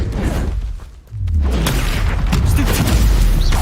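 Confringo, a fiery blast spell cast in the wizarding game Hogwarts Legacy, lands as a loud, deep boom with a whooshing rush and rumbling tail amid ongoing combat noise.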